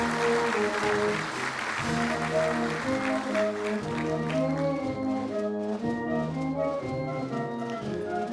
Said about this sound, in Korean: 여러분 힘찬 축하의 박수를 보내주시면 감사하겠습니다.